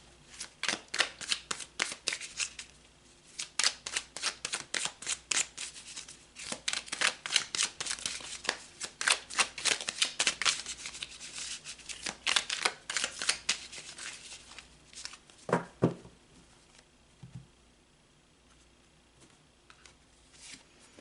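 A deck of tarot cards is shuffled again and again, in rapid riffling bursts that stay close and crisp, then trail off into a few soft handling sounds.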